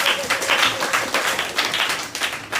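A church congregation claps for Jesus at the pastor's prompting, a dense, steady patter of many hands ringing out together without a break from start to finish.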